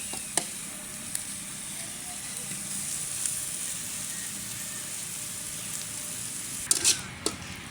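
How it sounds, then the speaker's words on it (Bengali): Onions frying in a little oil give a steady, moderate close sizzle throughout, with a few sharp clicks and taps from utensils scattered across it, and no speech. "আমি কিন্তু পেঁয়াজগুলো খুব অল্প তেলে আগে ভেজে নেব।"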